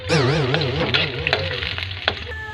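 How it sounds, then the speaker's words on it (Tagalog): Onions sautéing in oil in a frying pan (kawali), a near sizzle under a loud, wavering musical tone, with a few sharp clicks and crackles breaking through. "gigisahin muna natin yung sibuyas o pangsahog guys sa mantika"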